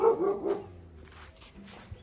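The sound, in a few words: dog barking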